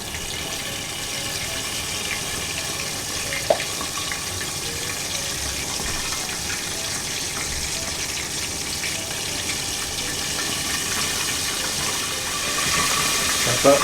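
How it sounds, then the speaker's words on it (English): Steady hissing sizzle of chicken frying in a pan, continuous and fairly close, with faint clinks now and then and no voices. "we've got a nice sizzle onto it at the moment."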